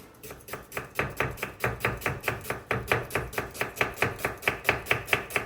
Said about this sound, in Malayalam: നമുക്ക് ഉള്ളി അരിയാം.